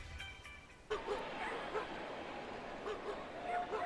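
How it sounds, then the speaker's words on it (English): Dogs bark and yip across a ballpark during a night Padres–Tigers baseball game, several short distant barks scattered over steady crowd murmur, faint and intermittent rather than close. "Can really hear those dogs barking throughout the park tonight, EK."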